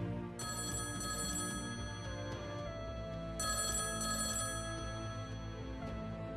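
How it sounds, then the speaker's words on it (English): A telephone bell rings in two long, bright bursts separated by a pause, clear and fairly close over a steady tonal background. "Until the phone rang."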